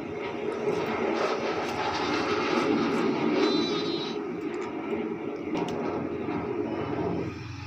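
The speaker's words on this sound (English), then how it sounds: "The F-16 completing that Cuban 8, and both aircraft heading out to the left-hand side for the next manoeuvre" F-16 and JF-17 fighter jets performing at an air show roar continuously overhead, a loud steady engine rumble that holds throughout and eases slightly near the end.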